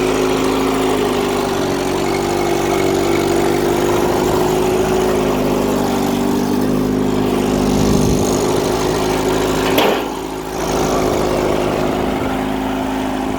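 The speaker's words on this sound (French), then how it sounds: "C'est un tracteur qui n'a pas tourné pendant une vingtaine d'années, qui marche plutôt bien." An old 1955 Micromax tractor engine, unused for about twenty years, runs steadily at idle, a low droning hum with a clear tonal throb and a brief dip near the end.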